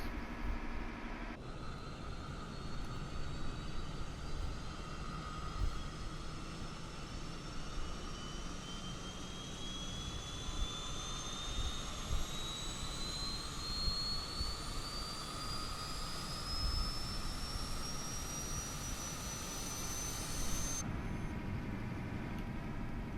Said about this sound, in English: Let's go to APU start. Let's go outside so you can hear it.